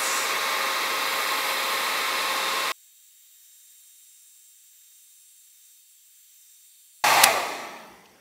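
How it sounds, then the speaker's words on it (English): A hair dryer blowing on a dbrand smartphone skin to seal it roars steadily for nearly three seconds, cuts off into near silence, then a loud airy burst returns and fades. "use the blow dryer to make sure it's like perfectly sealed"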